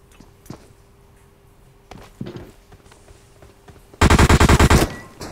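Rapid, loud automatic gunfire erupts in a video game as a close burst of repeated shots, preceded by scattered quieter thumps and footsteps.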